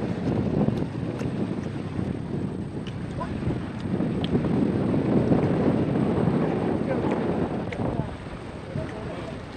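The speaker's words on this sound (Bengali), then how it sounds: "দারুণ হাওয়া দিচ্ছে" Strong wind buffets a small fishing boat on a river by the Sundarbans forest, a continuous rushing roar broken by gusts and dull thumps, loud and close throughout.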